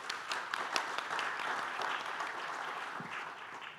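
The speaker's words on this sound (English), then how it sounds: "Let's please give a hand clap to Rahab." Audience applause after a speaker's introduction at a panel on AI for development, steady broadband clapping from a crowd sustained throughout, fairly close and moderately loud with no talk over it.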